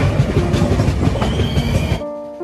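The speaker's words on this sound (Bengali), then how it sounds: "কেসিঙ্গা থেকে আমরা সমলেশ্বরী এক্সপ্রেসে করেই ফিরলাম হাওড়াতে।" Samleshwari Express passenger train running, a steady loud rumble and clatter of wheels and carriages that holds for about two seconds before dropping to a quieter hum with a faint tonal whine.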